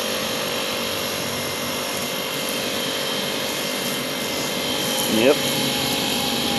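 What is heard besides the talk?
Honda HHT35S GX35 weed eater running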